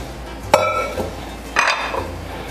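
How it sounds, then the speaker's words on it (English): A spoon stirs lasagna soup with beef broth in a pot, giving two distinct metallic clinks against the pot with a soft scraping and rustle between them, close by, with no talking. "we're going to give it a good stir to get all those flavors in there"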